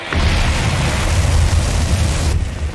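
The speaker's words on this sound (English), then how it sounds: "Liftoff confirmed. She's going." Rocket liftoff in the space-race game Mars Horizon, a loud sustained deep rumbling roar with heavy low-end that holds steady, then thins out near the end.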